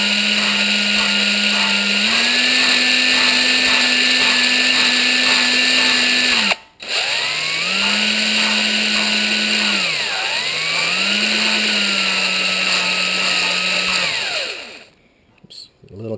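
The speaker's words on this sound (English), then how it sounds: "You just really want to grind those two, the seat and the valve, together so that they mate." A power drill spins steadily as it laps an engine valve against its seat, a loud continuous whine that cuts out briefly, restarts, dips in pitch under load and stops near the end.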